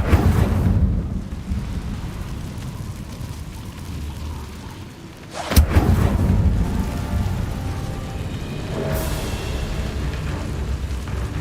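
Incendio fire spell cast in Hogwarts Legacy, a deep rumbling whoosh with a sharp burst midway followed by a roaring, crackling flame swell.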